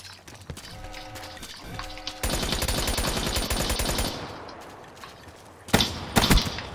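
Shiva gun firing in a video game, a loud rapid burst of automatic shots in the middle followed by a couple of heavy close bangs near the end, between quieter game sounds.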